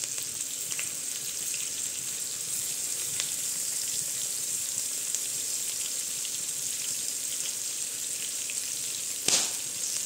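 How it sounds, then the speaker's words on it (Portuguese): Steady sizzling of chopped onion frying in hot pork fat, a continuous crackling hiss with a brief clank near the end. "vou colocar aqui um pouco de gordura de porco"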